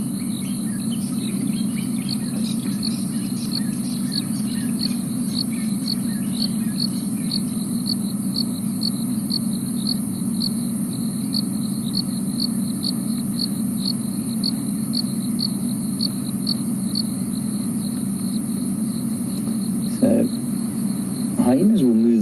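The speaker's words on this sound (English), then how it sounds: "The cicadas are still going." Cicadas drone steadily on the African savanna during an evening drive, a loud continuous buzzing chorus with a faint pulsing trill over it, lasting throughout with a brief knock near the end.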